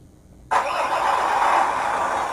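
Simulated engine start from the sound unit of a WPL C24KM RC truck: silence, then an abrupt onset into a steady, rumbling engine idle that holds evenly at moderate loudness.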